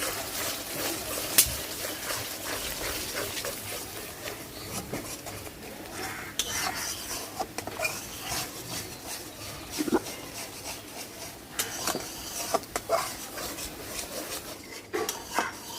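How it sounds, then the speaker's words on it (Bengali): Ground chili, coriander, cumin and salt being sautéed in a pan for katla fish curry, with soft repeated scraping and rubbing of a spatula against the pan and faint clinks, quiet and close. "সব মশলা দিয়ে ভালোভাবে মশলাটা কষায় নেব।"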